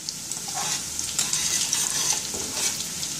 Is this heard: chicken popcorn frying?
yes